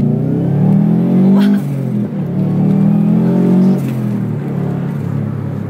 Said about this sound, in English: this is my maiden trip in the Impreza RA